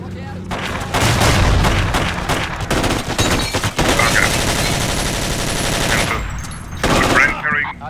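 Machine gun fire in Forgotten Hope 2 on the Mount Olympus map, loud sustained automatic bursts with booming impacts rolling almost continuously, briefly easing then resuming near the end.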